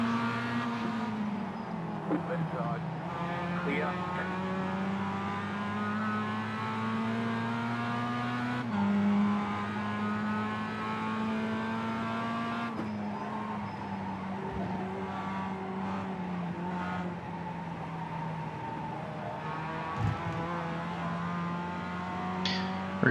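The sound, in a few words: MX-5 race car engine, iRacing racing video game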